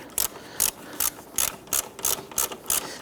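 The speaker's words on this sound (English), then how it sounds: "Now I'm going to go ahead and grab my ratchet." A hand ratchet clicks in eight even, sharp bursts while driving the bolt of an engine torque strut mount on a 1992-1996 Toyota Camry 2.2L four-cylinder, close and clear with no talk.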